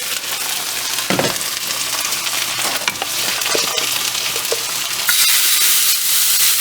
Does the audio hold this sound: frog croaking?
no